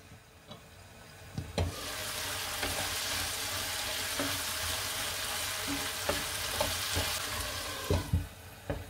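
Mixed vegetables for a rice dish sizzle steadily in a hot pan, a continuous frying hiss with scattered clicks and scrapes of stirring throughout.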